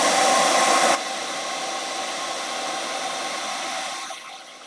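A hair dryer blows air to dry craft foam, a loud steady broadband whoosh that drops to a lower setting after about a second and fades near the end.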